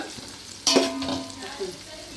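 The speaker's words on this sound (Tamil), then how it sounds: "இந்த மாதிரி ரெட்டிஷாக வர வரைக்கும் நீங்கள் நல்லா வதக்கிட்டே இருங்க" Biryani ingredients are stirred and sautéed in a hot pan, a sudden scrape and sizzle bursting up and then settling into softer frying and utensil movement.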